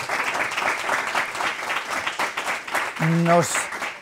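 An audience applauds to welcome a guest at a panel discussion, with steady, dense clapping throughout and a brief voice heard over it near the end.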